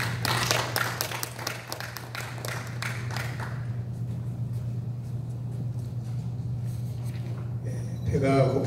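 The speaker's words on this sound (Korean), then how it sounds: "우리 강사님 나오실 때 크게 박수로 환영하겠습니다." A church revival-training audience claps to welcome a guest lecturer: a brisk burst of many hands that thins and dies away within a few seconds, leaving room noise and a low electrical hum.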